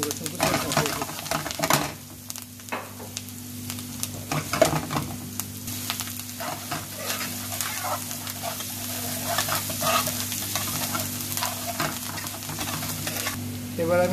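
Chopped onion and garlic frying in hot oil for tuna penne pasta, a steady close sizzle with occasional stirring scrapes, a low hum running underneath throughout.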